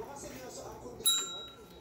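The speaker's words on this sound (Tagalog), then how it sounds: "gonna ring the bell" A single bright ding rings out from a counter service bell at the Pares Bistro eatery, struck once and left to ring and fade over a quiet room with faint murmur.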